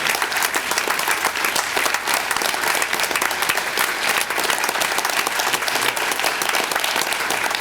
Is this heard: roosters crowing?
no